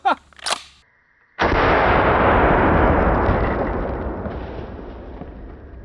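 A 12-gauge shotgun firing a less-lethal round outdoors, one loud sharp blast that rolls into a long fading boom, after brief clicks and handling noise at the start.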